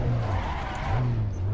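Rear tires of a short-wheelbase Honda Acty cab-over kei truck squealing and skidding in Assetto Corsa, a wavering tire screech over a steady low engine drone, close and sustained.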